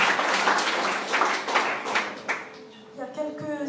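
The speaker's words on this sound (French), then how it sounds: "Applaudissons le Seigneur." A church congregation clapping together, a dense burst of applause that thins out after a couple of seconds as a voice begins to speak over it.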